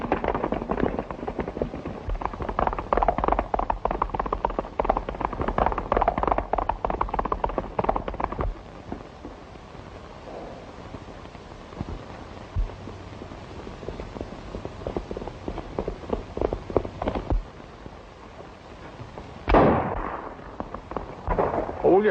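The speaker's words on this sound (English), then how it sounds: "Oh, you shot too soon." Gunfire from a 1937 western film, a dense run of sharp cracks and bangs with a possible horse moving underneath, loud and busy, easing into scattered shots and one heavy blast near the end.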